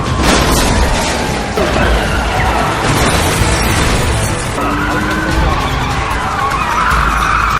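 A car chase from a Korean film: engines roar continuously with tires skidding and screeching, dense and loud throughout, with scattered impacts in a busy action mix.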